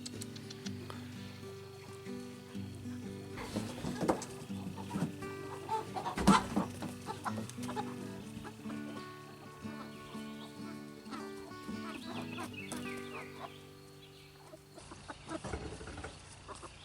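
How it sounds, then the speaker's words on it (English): Several chickens cluck and squawk close by, with sporadic bursts and one sharp louder call, over a quiet farmyard background. "What a bunch of chickens."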